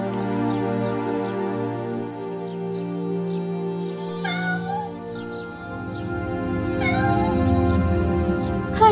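A cat meowing out in the cold on a snowy day, two distinct plaintive meows a few seconds apart rising over a low steady background hum and musical tone.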